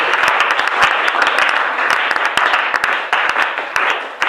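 A church congregation bursts into sustained, dense applause acclaiming the Lord, many hands clapping loudly and steadily throughout with no pause.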